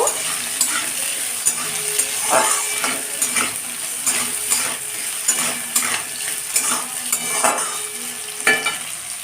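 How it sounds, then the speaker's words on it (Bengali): Potatoes frying in a pan of oil, a steady sizzle with repeated sharp clinks and scrapes of a metal spatula stirring them, close and fairly loud, no voices. "এবার আমি আলুগুলোকে ছেড়ে দেবো আলুগুলো হালকা করে ভেজে নেব"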